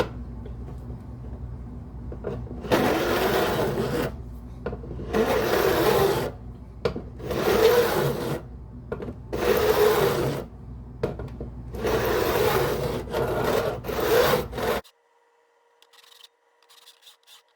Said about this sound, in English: It is beveled, so it'll slide over the ends of the frets better though.